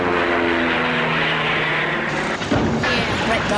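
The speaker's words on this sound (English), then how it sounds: "As I wind up this propeller, the rubber band stores energy, and that energy can be released to make the airplane fly." A rubber-band powered toy airplane's propeller spins with a steady, close whirring drone, a sustained buzz that holds level before shifting and fluttering near the end.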